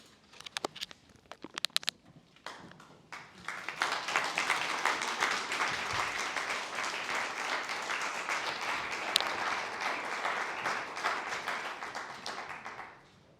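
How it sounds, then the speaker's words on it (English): Sustained applause from an audience at a school veterans recognition program, a few scattered claps building into a steady, loud wash of clapping that holds for several seconds before tapering off. "let's give those students another round of applause."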